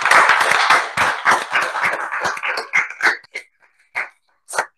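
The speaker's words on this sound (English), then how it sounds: "And let's give a round of applause." An audience round of applause at a BayCHI program discussion with Professor Terry Winograd: brisk clapping starts full, then thins and fades until only a few scattered final claps remain, ending in silence.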